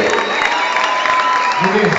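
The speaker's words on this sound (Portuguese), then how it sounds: "Você pode aplaudir?" Applause from a church worship congregation after an opening prayer, dense and steady for about two seconds, with a voice and a held tone over it.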